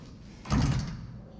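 A single brief rattle and thud of a locked door being tried in Resident Evil 7, moderately close with a muffled, hollow knock.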